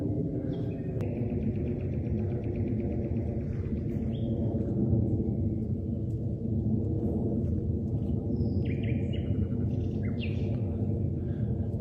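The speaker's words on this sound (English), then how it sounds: "only the noises of birds disturb the quiet, an odd thing in the dead of night" Scattered birds call and chirp through a dark forest at night, with brief distant calls over a steady low rumble of wind or background noise.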